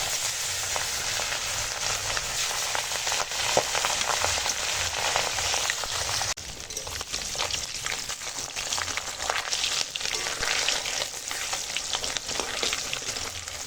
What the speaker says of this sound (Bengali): এখানে তেল একদম খুব গরম হয়ে গেছে ভাজা চাপিয়ে দিলাম মাছ ভাজা